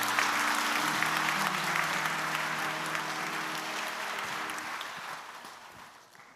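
A church congregation claps for a newlywed couple during a Sunday service, sustained warm applause from many hands with an organ holding beneath, slowly fading out at the end.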